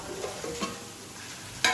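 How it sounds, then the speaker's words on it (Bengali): Ground spice paste being sautéed in a pan at home, heard as faint stirring scrapes and a soft sizzle, with a brighter scrape near the end. "এখানে মশলাটা কষানো হচ্ছে"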